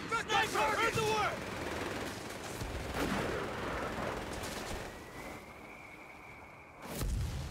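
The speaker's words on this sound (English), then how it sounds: "Oh, der kam auch gut von Mörser." Mortar artillery fire in the World War II strategy game Company of Heroes 3, with dense bursts of explosions and gunfire rolling through a battlefield, a loud impact near the end, and a soldier's voice calling out near the start.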